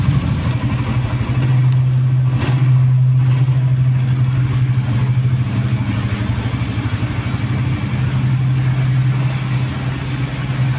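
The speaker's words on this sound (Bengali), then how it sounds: "আসুন বাইকের সাউন্ড সম্বন্ধে কিছু আমরা জেনে নিই" A new motorbike engine idles steadily and loud for the whole stretch, its low even hum holding a constant drone with a slight swell near the start and no voices over it.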